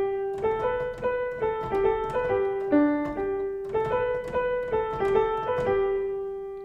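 A single melodic line of plucked or struck pitched notes plays the French folk tune Alouette, rising and falling in two similar phrases, clear and alone at moderate volume.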